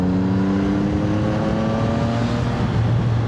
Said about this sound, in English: That was a 5th gear roll on